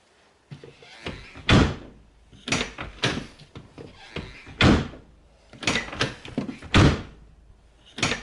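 Door on an Audi C5 S6, its catch newly repaired, shutting several times in a row with firm, solid thumps spaced about a second apart, close by and clear, with no talking.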